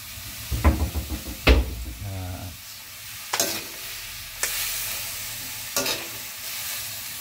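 Spoon scraping and knocking in a frying pan as spices are mixed into sizzling food, a few distinct close clacks and scrapes over a soft background sizzle, with a brief faint voice.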